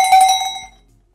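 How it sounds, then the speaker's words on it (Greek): A cowbell, a number 10 size bell being tied to a shepherd's crook for a ceiling lamp, gives one bright metallic ring that rings on briefly and fades out within a second. "Και παίρνουμε μετά την κουδούνα μας που έχουμε επιλέξει."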